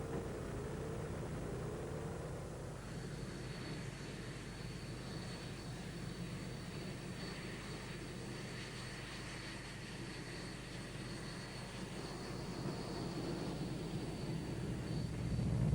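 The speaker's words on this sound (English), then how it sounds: "These pictures from our onboard camera clearly show the revs dropping on the right engine." An aircraft engine drones at the Royal International Air Tattoo at Fairford, with a steady propeller hum and a faint whine as the right engine's revs drop, heard distantly from onboard at fairly low level.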